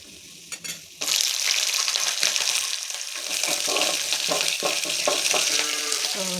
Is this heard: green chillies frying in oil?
yes